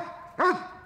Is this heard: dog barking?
yes